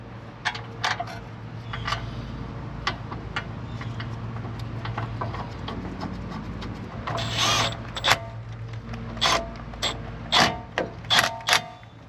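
A caliper bolt is threaded in by hand on the brakes of a 2007-2013 Chevrolet Silverado 1500, with small metallic clicks, creaks and ratcheting taps over a low steady hum, getting sharper and louder toward the end.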